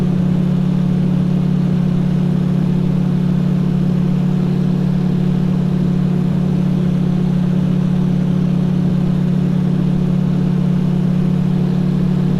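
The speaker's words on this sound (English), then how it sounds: "let me see that you can fly straight and level on one engine." A Diamond DA42 twin in a flight simulator flies on a single engine after the other is secured, giving a loud, unbroken low drone with a strong steady tone and no talk.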